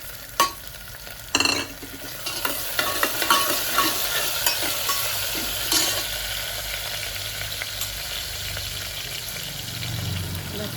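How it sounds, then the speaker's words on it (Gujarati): Tomatoes and chillies dropped into a frying pan with potatoes for khichdi, a couple of sharp clatters then steady sizzling and spoon stirring, close and moderately loud, no talk. "એમાં નાખીશું ટમેટા અને મરચાં."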